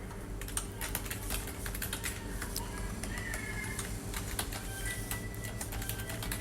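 Computer keyboard typing in a steady stream of quick clicks and taps, close and moderately loud, during data entry in Microsoft Access, over a constant low hum, with no voice.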